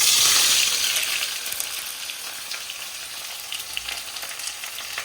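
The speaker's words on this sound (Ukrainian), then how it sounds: "покладу отакий обжарю ломтик цибульки" Onion sizzles in a hot pan for Uzbek lamb plov, a loud initial burst of frying that settles into a steady crackling hiss with light stirring noises.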